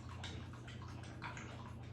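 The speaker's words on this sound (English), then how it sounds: "that noise you hear is Darwin drinking out of his water dish like a camel." A dog laps water from its dish, rapid wet slurping and splashing in quick repeated bursts, faint and close, over a low background hum.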